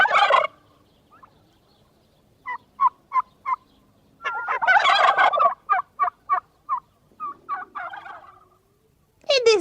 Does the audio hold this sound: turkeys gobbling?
yes